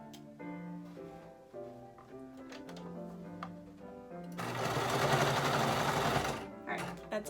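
A sewing machine stitches a seam on a pillowcase, starting with a few slow, separate needle strokes, then speeding into a dense, steady whirring run up close before stopping.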